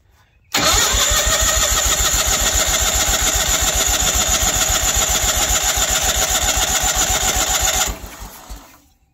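A Ford F8000 truck that has sat for years cranks its engine, a loud rapid rhythmic churning of the starter that runs steadily for about seven seconds, then cuts off and fades.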